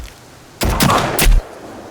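Two loud shotgun blasts from the video game Sons of the Forest, a heavy boom followed by a second close, booming shot about half a second later.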